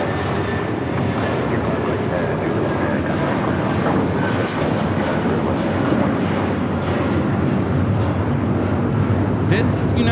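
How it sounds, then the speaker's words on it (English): United Airlines Boeing 757-200 taking off from Los Angeles for Newark, a loud, sustained engine roar filling the air steadily from start to finish, with no voices over it. "2127 taking off to Newark on the 757-200"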